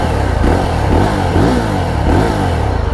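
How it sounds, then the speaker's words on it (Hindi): A Yezdi Roadster motorcycle engine idles loudly up close, its exhaust thumping in a steady, throaty rhythm with slight rises in revs. "एग्जॉस्ट नोट सुनाता हूँ आपको।"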